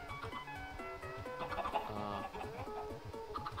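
Chickens in the Minecraft game Spookycraft cluck in a quick, repeating series of short pitched bursts, several birds overlapping at close range against a steady background.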